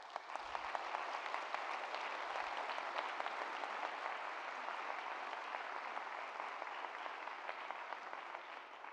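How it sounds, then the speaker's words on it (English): A big round of applause in a large hall during a university state-of-the-university address, dense steady clapping from a sizable crowd held at an even level throughout, with a couple of low thumps early. "Let's give them a big round of applause."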